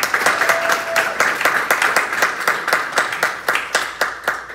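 Audience applause for the 2025 Rotarian of the Year award recipient at a Rotary Club awards luncheon, a steady, dense crowd clapping with distinct rhythmic claps sustained throughout.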